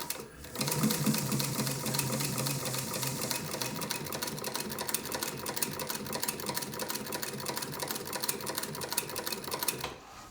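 A 1916 Singer 31-15 industrial sewing machine with new larger feed dogs and presser foot stitching leather, a loud, fast, steady mechanical clatter running continuously for about ten seconds before stopping.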